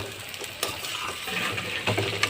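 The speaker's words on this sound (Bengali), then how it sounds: "আলুটাও পেঁয়াজের সঙ্গে মশলার সঙ্গে একবারে ভেজে নিব।" Sliced potatoes frying with onions and spices for a spicy Bhola fish curry, a steady close sizzle with occasional stirring scrapes and light clinks of a utensil against the pan.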